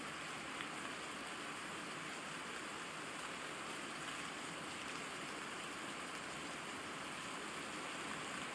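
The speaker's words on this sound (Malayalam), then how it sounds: "ഇതാ പുറത്ത് നന്നായിട്ട് മഴ പെയ്യുന്നുണ്ട്" Steady heavy rain falls outdoors in Pathanamthitta, a dense, even hiss and patter that continues unbroken at moderate distance, with no voices and no clear individual drops.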